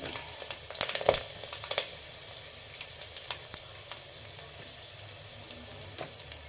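Dry red chillies hit hot oil already holding garlic for a Karnataka radish and potato saaru, giving a steady, close crackling sizzle with a few sharper pops near the start and a faint stir now and then.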